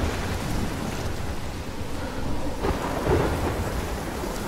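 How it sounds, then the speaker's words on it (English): A thunderstorm in the game Life is Strange, with a continuous loud wash of rain and rolling thunder rumbling throughout and swelling slightly near the end. "I've never seen a storm like this in Oregon"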